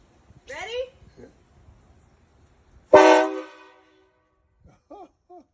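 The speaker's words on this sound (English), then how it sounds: "So that's the horn I have on my truck." A loud train-style air horn mounted on a pickup truck gives one short, brassy blast up close after scattered voices. Softer horn-like toots and talking follow.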